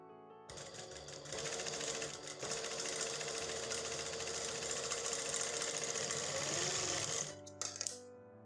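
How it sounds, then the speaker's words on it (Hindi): A sewing machine runs in a continuous fast mechanical rattle, stitching along the very edge of trouser fabric at close range, stopping with a few clicks at the end. "बिल्कुल किनारे पे सिलाई लगानी है"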